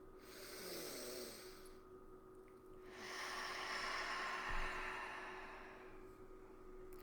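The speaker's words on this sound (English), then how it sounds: "Let's take a deep breath in." A slow, deep inhale through the nose during a guided breathing exercise, faint and close. The breath swells gradually over several seconds against a steady low background hum.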